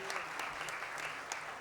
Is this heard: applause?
yes